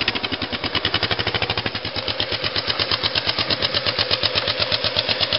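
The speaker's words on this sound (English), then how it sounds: "Bike is started." A motorcycle engine runs right after starting, a loud, close, fast and even chugging pulse that holds steady throughout with no talk over it.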